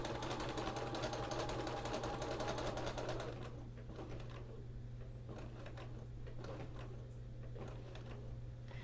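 A sewing machine quilts fabric through a walking foot, its rapid steady mechanical chatter running fast and fairly close before slowing to a looser, quieter stitching rhythm partway through, with no talk.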